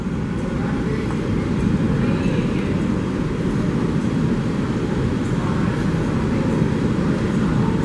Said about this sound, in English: Timer's on, there's a train arriving on this track.